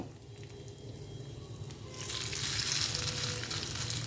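A potato mixture fries on a hot tawa for a potato breakfast dish, a steady sizzle that swells suddenly louder and brighter partway through as more of the mixture hits the pan, with no talking.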